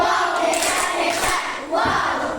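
A group of voices in a classroom shouting an enthusiastic clapping chant in unison, loud and close, two bursts with a brief dip between.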